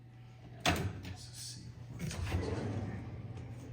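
Kitchen drawers in a contemporary luxury home are opened and closed, giving one sharp sliding thud followed by a softer second slide, quiet and close in a still room.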